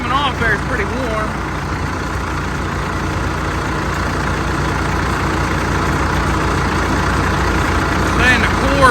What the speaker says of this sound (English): It's going down just sitting here idling.